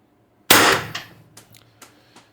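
A single sharp, loud crack from a Mercury Rise TR50 Torpedo air rifle firing 4 gram ammo, refitted with its factory bolt spring, followed by a few fainter clicks and knocks as it settles.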